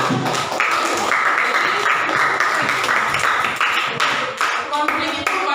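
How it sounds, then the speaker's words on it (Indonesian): Students clap together in a classroom, a dense patter of applause running steadily throughout with voices talking over it. "Tepuk tangan untuk kita semua."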